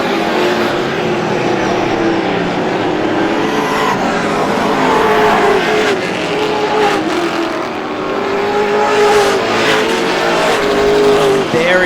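Race cars at Star Speedway roar through turns 3 and 4 during the GSPSS 100, loud continuous engine noise with passing surges and tire squeal, no talk.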